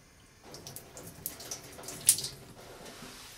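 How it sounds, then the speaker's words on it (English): Water runs and splashes over a big block of ice at a cocktail bench, giving a light, irregular trickling with a brief louder splash partway through. "As I'm gonna use this big block of ice, I'm gonna get it wet"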